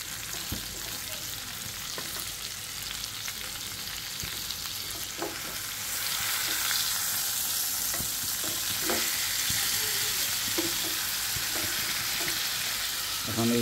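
Homemade beef steak fries in oil with a steady, hissing sizzle that swells louder partway through, dotted with small spits and crackles near the end.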